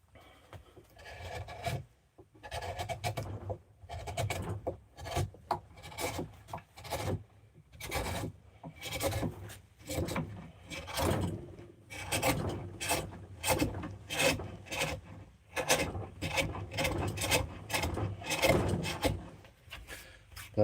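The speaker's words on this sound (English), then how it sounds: "I might start using the spoon gouges to clean it a little bit." Spoon gouge carving a wooden bowl by hand, with repeated rasping, scraping strokes in uneven bursts, close and fairly loud, with brief pauses between cuts.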